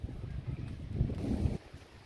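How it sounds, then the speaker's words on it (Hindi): Strong gusty wind roars outdoors during a thunderstorm with rain, a dense low rumble that holds for about a second and a half and then drops away to a quieter hiss. "सामने दोस्तों बारिश भी होने लगी है और काफ़ी तेज हवाएं भी चल रही हैं"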